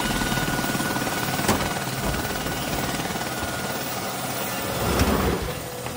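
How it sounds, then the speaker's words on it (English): A helicopter's steady rotor and engine drone fills the scene in the anime Guyver, holding an even level throughout with a slight swell near the end. "That helicopter must be for the Zoanoids."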